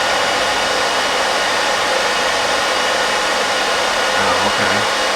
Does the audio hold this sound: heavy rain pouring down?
no